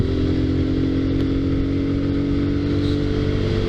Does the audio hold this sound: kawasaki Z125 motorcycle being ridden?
yes